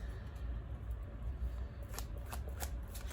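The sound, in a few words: shuffling tarot cards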